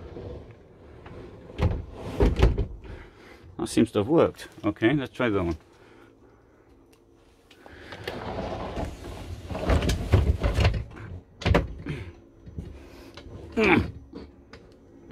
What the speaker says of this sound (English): how high-end are these sliding doors?